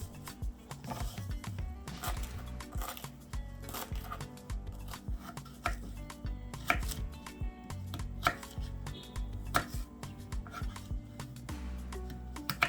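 Knife chopping parsley on a cutting board for a vegan salad, quick, irregular cutting taps and scrapes continuing throughout, quiet and close, without talk.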